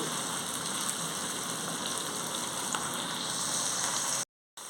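Suji rava (semolina) vadas frying in a wide pan, with a steady, dense crackling sizzle of hot oil throughout, like rain on a surface, stopping in a brief dropout near the end.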